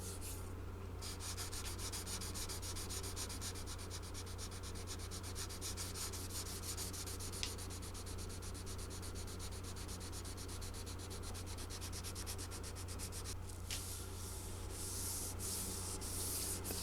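A 1958 Martin guitar headstock is level-sanded with 600-grit free-cut sandpaper on a block, producing a quiet, steady rhythmic scrubbing of rapid back-and-forth strokes over a low background hum.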